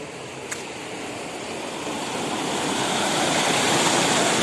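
Village river flowing down from the Himalayas, a continuous rushing wash of water that grows slightly louder, with a brief tick early on and no talk.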